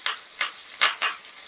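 Green chillies and curry leaves fry in hot oil for a tempering, crackling in four quick sizzling bursts over a steady low hiss, close and fairly loud.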